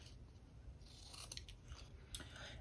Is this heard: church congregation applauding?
no